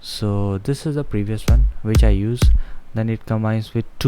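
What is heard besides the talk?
No distinct noise like a dog, phone or traffic.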